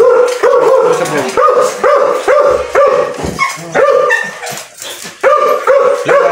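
A dog barks close and loud in a rapid, uneven series of sharp barks with brief pauses, during a typhoon.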